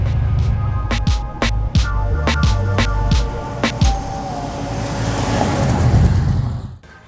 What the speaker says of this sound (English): Man, that is one sweet Caddy. Drives like a dream